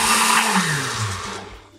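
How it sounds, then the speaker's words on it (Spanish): A blender grinds dried shrimp with a loud, steady whirring roar that slowly drops in pitch and fades slightly over a couple of seconds, with no voice over it. "Vamos a empezar licuando nuestros camarones secos."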